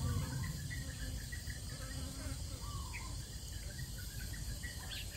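Dwarf honeybees swarm near their hive outdoors, giving a steady, faint insect buzz and hum that runs through the whole stretch with scattered higher chirps over it.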